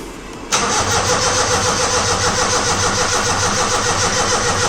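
A car engine cranks and catches right after a fuel pump repair, then settles into a loud, steady, rumbling idle that continues close by with no one talking.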